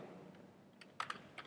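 Keyboard keys tapped while coding a website, a few faint light clicks clustered near the end of a quiet moment.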